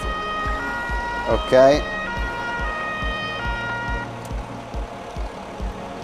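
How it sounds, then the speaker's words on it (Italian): An ambulance siren in the video game Firefighters 2014 wails in steady sustained tones over engine hum, then cuts off partway through, leaving the vehicle's drone; a voice speaks briefly. "spengo la sirena poco prima di arrivare"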